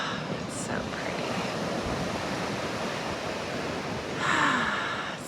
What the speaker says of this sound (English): Listen to those waves.